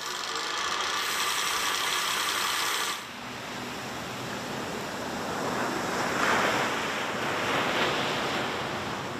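Ocean waves wash around wave energy floaters in Los Angeles, a steady broadband roar with wind noise and a slight surge midway.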